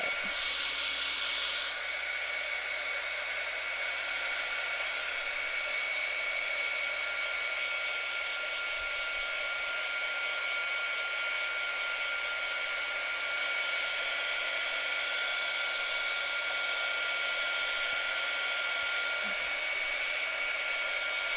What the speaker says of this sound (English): use my heating gun just to kind of speed up the process a little bit for video purposes